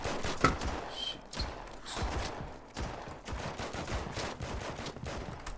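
Gunfire crackles in a shooter video game, with repeated bursts of shots and thuds at a steady moderate loudness for several seconds, with no talk over it.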